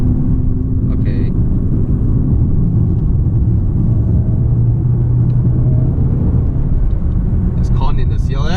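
A turbocharged 3-litre six-cylinder car pulls away with a steady, loud, close engine rumble that holds throughout, with a brief higher hiss near the end.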